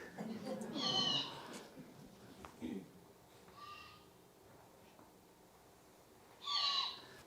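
An owl call played from a recording during an indoor owl program, with loud shrill screeching bursts near 1, 3.7 and 6.7 seconds and quieter gaps between, plus a brief low thump.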